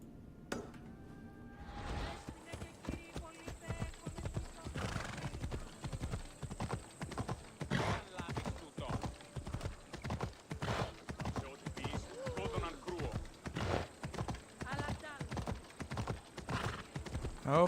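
Horse hooves clip-clopping steadily in Assassin's Creed Odyssey as a horse is ridden through a city in Attika, a fast even gait heard close and continuous, with a faint whinny near the start.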